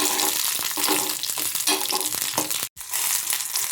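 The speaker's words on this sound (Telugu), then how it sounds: "పచ్చి కొబ్బరి మిరపకాయలు అయితే కొద్దిగా అయితే ఒక ఫైవ్ మినిట్స్ అయితే ఫ్రై చేసుకోవాలి" Raw coconut and green chillies frying in a pan for chutney, a loud close sizzle with rapid crackles and scraping stir sounds, broken by a brief cut of silence before resuming.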